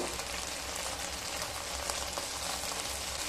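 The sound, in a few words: spices frying in pan for mouri parshe fish curry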